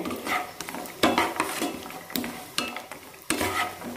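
Cashews tossed into melted ghee for moong dal payasam, a soft sizzle under repeated scraping and stirring strokes of a spoon against the pan, close and fairly quiet.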